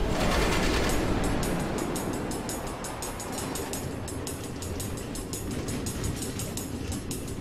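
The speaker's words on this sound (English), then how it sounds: "Automated train tracks running all through the nether, connecting all the different order members?" A train runs along automated tracks through the Nether in the Minecraft video game, giving a steady, loud rolling rumble with rapid repeating clicks throughout.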